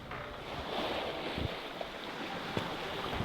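A sailboat running downwind under several sails in about 10–12 knots of wind, with steady rushing wind and waves washing along the hull, a continuous broad noise with no talking.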